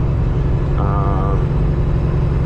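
A Freightliner truck engine with aftermarket exhaust pipes hums in a loud, steady low drone from inside the cab, a brief tonal whine rising over it midway.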